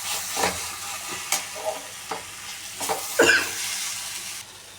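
Ginger garlic paste and tomato frying in a pan for a meat curry, with soft continuous sizzling and several scraping stir strokes close by.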